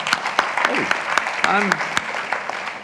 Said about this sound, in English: I'm complaining and the guy's clapping about it.